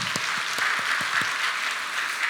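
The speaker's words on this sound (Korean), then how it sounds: "우리 하나님께 영광의 박수 올려드리겠습니다." Church congregation applauding during a Sunday worship service, a brief steady burst of many hands clapping together, fairly close and even in level.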